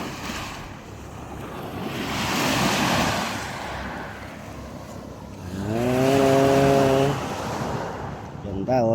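Sea waves wash onto a clear seashore in steady rolling surges with wind rumbling across the microphone, while someone speaks briefly near the end.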